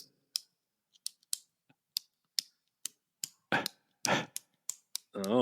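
Pen clicking, a string of about a dozen sharp, close, dry clicks at an irregular, quickening rhythm, with a few louder clustered clicks near the end and a brief bit of speech at the close.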